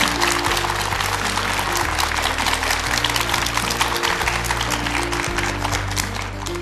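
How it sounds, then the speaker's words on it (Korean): A lecture hall audience gives sustained, dense applause for lecturer Professor Kim Ik-du at the close of a televised lecture. The clapping is loud and steady for several seconds over a low musical tone. "김익두 교수님께 다시 한번 큰 박수 부탁드립니다"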